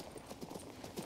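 A horse's hooves clip-clop steadily while riding in Kings Bounty 2, a quick even rhythm of muffled thuds under a dense background of ambient game sound.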